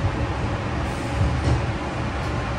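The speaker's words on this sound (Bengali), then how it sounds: "জঙ্গলের মধ্যে দিয়ে একদম ট্রেন যাচ্ছে" A tourist special train with a Vistadome coach runs through forest in the Dooars, heard from inside as a steady, moderately loud rumble with rhythmic low clatter of wheels on track and no talking.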